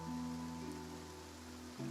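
Steady rain hissing down in Fontaine in Genshin Impact, an even wash of drops lasting throughout, with low sustained tones humming beneath.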